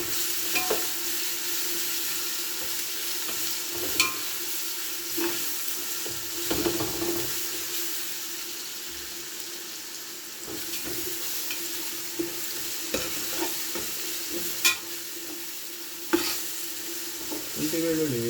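Ginger and garlic frying in oil for mutton biryani, stirred with a utensil scraping the pan in irregular clinks over a steady close sizzle, with no talking.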